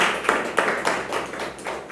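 Audience at a meditation gathering applauding, a steady run of crisp overlapping hand claps with a few sharper accents, moderately loud and sustained over two seconds.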